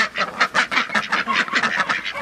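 Several domestic ducks quack in quick, repeated bursts while eating fresh greens outdoors, loud and close, a busy overlapping chatter with no talking.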